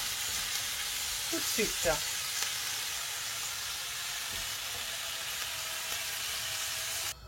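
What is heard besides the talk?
beef frying in olive oil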